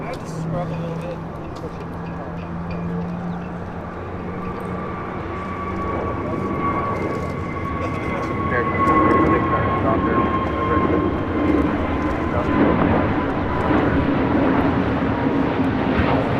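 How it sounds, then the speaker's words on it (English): An Avianca Airbus A320neo taking off at LAX, a broad jet engine roar that builds steadily and stays loud throughout, with a faint tonal whine layered in and distant voices underneath. "Next takeoff is Avianca flight 641 heading to Guatemala City in A320 Neo."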